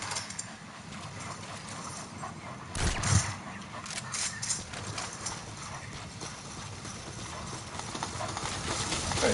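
Horse hooves clip-clop steadily in the Metal Gear video game, a continuous mid-level patter of hoofbeats with a brief louder burst near the start, heard alone without talk.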